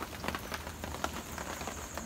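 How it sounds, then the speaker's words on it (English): Steady rain falls at a campsite on Navy Island, Jamaica, a continuous patter with scattered sharper drops striking nearby surfaces, no voices present. "Rain has creeped in."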